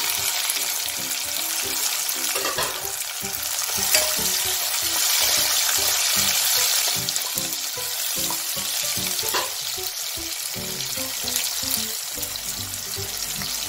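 Cut potato and tomato sizzle steadily in a hot pan for a fasting-day dish, a loud continuous frying hiss with occasional stirring scrapes and no voices.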